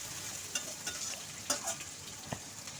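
Chopped tomatoes with salt are stirred in a frying pan, giving a soft, steady sizzle with occasional scrapes and light utensil taps. The sound is fairly quiet and close.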